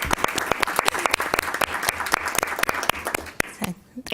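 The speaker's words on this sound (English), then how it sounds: "give a round of applause for the subcommittee and Deshay and Tanya." Applause from people at an advisory committee meeting, a steady burst of many hands clapping that stays close and fairly loud, then tapers off near the end.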